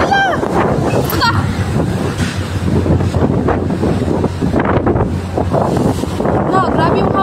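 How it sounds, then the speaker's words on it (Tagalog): Strong wind buffets the microphone in heavy, continuous gusts at a seaport where two ships collide, with people talking over the roar throughout. "Na, grabe yung hangin, oh."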